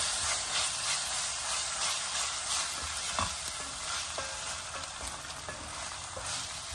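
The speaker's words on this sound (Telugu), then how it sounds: "ఇంక ఇప్పుడు ఈ అల్లం వెల్లుల్లిపాయ పేస్ట్ పచ్చి వాసన పోయే వరకు వేగాలండి." Ginger garlic paste frying in a pan for restaurant-style palak paneer, giving a steady, continuous sizzle with occasional faint stirring scrapes, close and fairly loud, with no talking.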